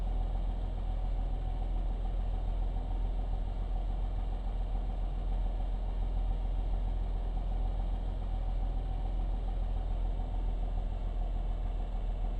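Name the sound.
aircraft engine while taxiing, from video game Coastline Flight Simulator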